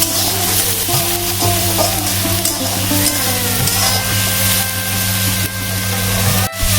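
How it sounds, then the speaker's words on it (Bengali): Onion paste frying in a pan for a Bengali bhetki fish-bone chorchori, giving a steady, loud, continuous sizzle with stirring scrapes throughout and no talking. "পেঁয়াজটা আমি দিয়ে দিলাম, পেঁয়াজটা একটু ভালো করে ভাজবো"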